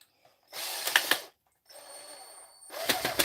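A screwdriver bit driving screws, three separate bursts of whirring and grinding with clicking, separated by short silences.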